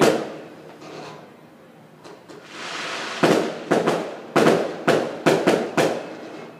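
A series of sharp fireworks bangs celebrating a Napoli football win, about eight loud cracks in quick irregular succession after a hissing buildup, echoing at moderate distance.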